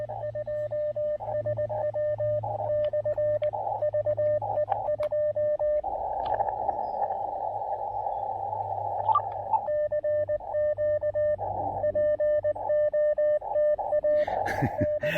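A steady radio tone hums on an amateur radio channel during a portable field activation, broken by another station's signal that cuts in, with on-off tone bursts and static.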